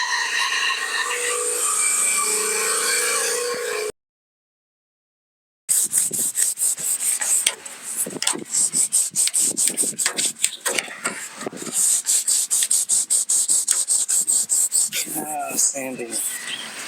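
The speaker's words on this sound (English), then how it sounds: "It's God's work, sanding." Bodywork on a Dodge D150 truck is sanded by hand in quick back-and-forth strokes, rough and close. Several seconds of scraping break off into silence, then faster, uneven strokes resume, with a voice briefly heard near the end.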